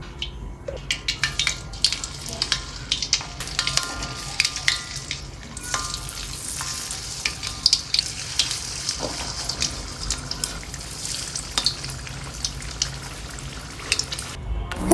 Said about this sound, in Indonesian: tinggal siapin minyak panas dan langsung aja digoreng